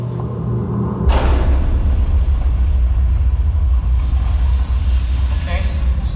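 A sudden dynamite-blast thump about a second in, from a mine museum exhibit show, followed by a heavy, sustained low rumble that continues steadily to the end.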